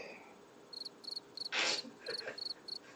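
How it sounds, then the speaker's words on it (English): Soundboard cricket chirps play in short, evenly spaced bursts of high trilling pulses. A brief louder noise interrupts midway before the chirping resumes. "Can we get the crickets?"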